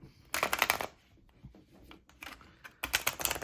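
Tarot cards are shuffled by hand in three close, crisp bursts of riffling and flicking, separated by brief quiet pauses, with no talking.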